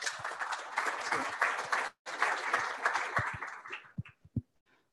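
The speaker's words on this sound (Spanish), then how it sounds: "Demos un fuerte aplauso" An audience at a technical lecture on cadmium in cacao gives a speaker a strong round of close, dense applause that breaks briefly, resumes, then tapers off into a few last isolated claps.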